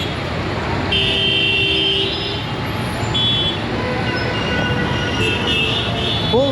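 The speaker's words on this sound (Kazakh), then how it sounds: "Қараңдар, қандай кептеліс болып жатыр." Traffic jam in Delhi with a constant dense roar of engines, punctuated by brief horn blasts from nearby vehicles.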